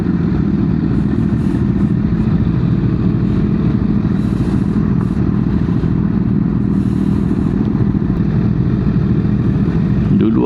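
A Honda CBR1000RR SC77 superbike ridden at speed, heard from the cockpit as a loud, constant engine drone with heavy wind rush throughout and faint rattles above it.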